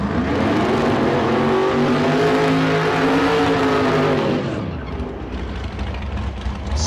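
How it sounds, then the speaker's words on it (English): A 1971 Chevrolet Nova drag car at a Las Vegas street car drag strip idles and revs loudly with a steady, rising engine drone, then the tone drops away into a lower, rougher rumble as it rolls up. "There's Artist Houston rolling up here out of Compton, California, the 71 Chevrolet Nova."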